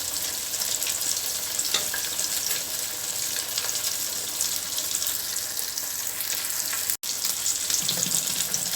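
Masala-coated fish frying in hot oil sizzles and bubbles continuously at close range, a dense, even crackle with a brief dropout near the end.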